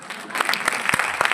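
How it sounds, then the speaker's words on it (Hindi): Audience applause breaks out at a seminar in Prayagraj, a short, dense burst of many hands clapping at close range that fills the room. "ताली मार सकते हैं आप"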